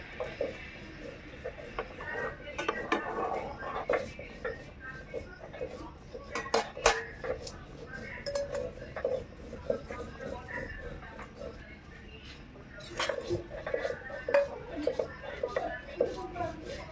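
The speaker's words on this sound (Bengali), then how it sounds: "পনিরগুলো ছেড়ে দিচ্ছি।" Paneer pieces dropped into gravy in a pan, giving scattered clinks and scrapes of a utensil against cookware under ongoing kitchen noise, with a voice talking over them.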